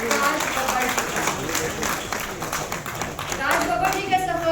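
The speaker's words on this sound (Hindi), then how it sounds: "जोरदार तालियों से स्वागत करिए हमारे लिविंग लेजेंड राज बब्बर जी का।" An award ceremony audience at AKK Mahotsav 2025 gives Raj Babbar a warm welcome with sustained, dense applause, loud and continuous, while a voice speaks faintly underneath.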